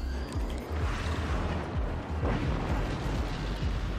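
Heavy mortar shells detonate in the Forts RTS strategy game, a dense run of booming blasts and low rumbling impacts that overlap continuously with no talking.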